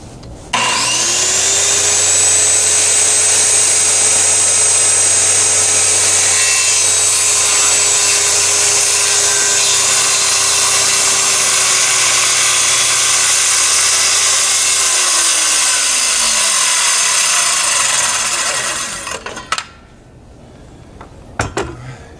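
A power saw running steadily as it cuts through wood for a kitchen island, a loud, sustained whine and rasp lasting about eighteen seconds before spinning down into brief clattering.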